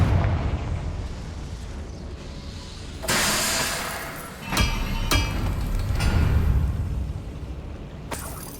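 Confringo spell explosions in Hogwarts Legacy, sudden booming bursts with sharp cracks over a dense, rumbling battle backdrop, several blasts in quick succession and loud throughout.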